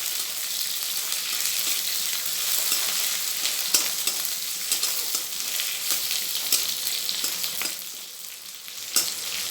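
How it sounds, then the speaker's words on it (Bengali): Eggplant frying in a pan with a ground paste of mustard, green chili, salt and garlic, giving a steady, close, continuous crackling sizzle with occasional stirring scrapes throughout, no talking. "এখন বেগুন দিয়ে আমি এটা কষাচ্ছি।"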